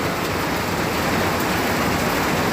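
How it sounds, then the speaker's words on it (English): Heavy rain pouring steadily in a dense, constant hiss with no let-up, close and fairly loud, no voices. "Look how hard it's raining,"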